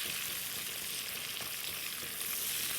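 Onions hitting hot bacon fat in a clean cast iron skillet, a steady, close sizzle and crackle that holds evenly throughout with no talking.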